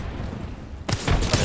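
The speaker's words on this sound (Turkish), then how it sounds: "Üstümüze bomba atılıyor" A bomb explodes in a video game: a sudden, loud, broadband blast cuts in after near silence and rolls on as heavy rumbling for the remaining half second.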